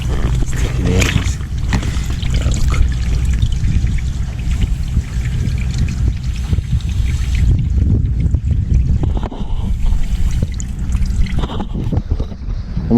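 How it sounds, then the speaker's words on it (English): Water drains and trickles out of a deflated dinghy, a continuous close sloshing and pouring wash that runs steadily throughout with irregular gurgles. "I've tried to like get it in a sort of shape that will then allow me to get the water out."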